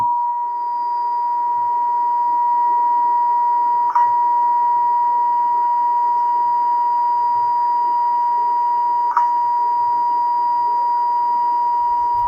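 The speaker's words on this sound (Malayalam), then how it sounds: "അത്രയ്ക്ക് ബീപ്പ് സൗണ്ട് കണ്ടിന്യൂസ്" A continuous censor beep, a steady loud pure tone held unbroken for over twelve seconds, bleeping out heavy swearing, with only faint ticks beneath it.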